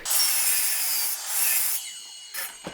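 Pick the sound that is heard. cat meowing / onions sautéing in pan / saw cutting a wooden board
saw cutting a wooden board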